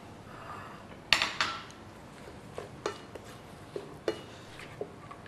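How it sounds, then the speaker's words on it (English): Seafood stir-fried in a wok with green peppercorns, kaffir lime, chilies and grachai: a few sharp clanks of a metal utensil against the pan, then scattered lighter taps and scrapes over a quiet background with no talk. "then we add our fresh ingredients, the green peppercorns like we said before, the kaffir limes, the chilies and the grachai"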